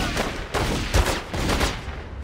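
Gunfire in the PC video game Godfather 2: several loud bursts of shots in quick succession, with no voices.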